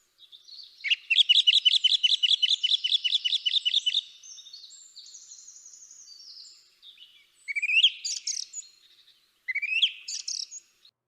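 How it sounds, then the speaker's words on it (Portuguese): A small bird sings alone in a clean recording, with a fast run of repeated bright chirps followed after a pause by a few sharper trilled phrases. "som do passarinho."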